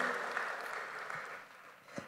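Faint, distant applause from a church congregation honouring Jesus, a steady wash of clapping with no voices over it.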